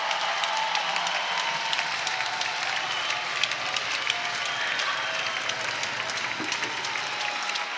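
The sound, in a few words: softball stadium crowd applauding a home run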